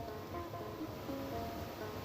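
Water flows steadily from the top of a public aquarium tank, a soft, even rushing wash that is faint and constant, with no speech.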